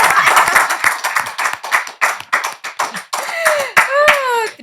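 Studio audience applause for a pop singer on a talk show, a burst of sharp, dense clapping that rises and continues, with a few whoops and cheers near the end.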